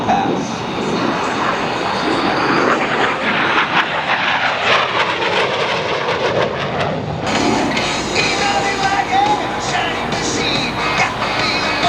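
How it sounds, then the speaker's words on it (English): USMC AV-8B Harrier jet making the traditional low pass at the MCAS Cherry Point airshow, a loud continuous roaring engine sound that swells and shifts as it passes, with an announcer talking over it. "At your far left, you see the aircraft coming into the traditional low pass."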